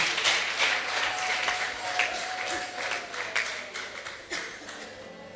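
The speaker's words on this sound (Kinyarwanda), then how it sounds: "Dukomera Yesu amashyi menshi." Audience clapping for a choir at a choral competition, a steady smattering of applause with scattered sharp claps, moderately close and continuing throughout.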